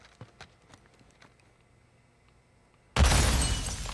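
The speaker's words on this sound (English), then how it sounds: "What a pretty explosion." An explosion in the Modern Warfare 2 game campaign bursts in loudly near the end after quiet scattered clicks and taps, then its rumbling roar slowly fades.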